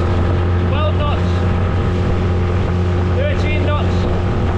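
Outboard engine on a tiny inflatable boat running flat out at top speed, a loud steady drone with constant wind buffeting and water rush, while a voice speaks briefly over it.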